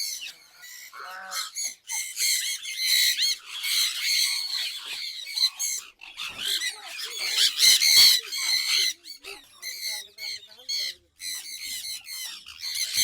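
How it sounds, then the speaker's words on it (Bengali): Sun conure parrots in a cage screech in loud, shrill, overlapping bursts, a near-constant chorus of harsh squawks with only short pauses. "এত চিল্লায় পাখি, কথার আওয়াজই শোনা যাবে না, শুধু পাখির আওয়াজ"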